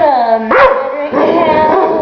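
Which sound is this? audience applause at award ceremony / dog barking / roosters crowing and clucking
dog barking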